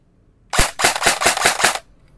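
E&C SIG MCX Virtus airsoft rifle firing a rapid burst of about six sharp, loud cracks in quick succession, close up, then silence.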